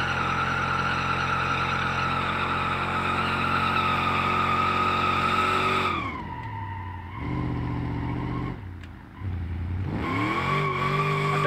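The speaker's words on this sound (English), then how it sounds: "Can I do a third gear burnout?" A car in BeamNG does a loud, sustained tire burnout that holds steady at high revs, then drops into an uneven skid with several gear or throttle changes and short squealing bursts near the end.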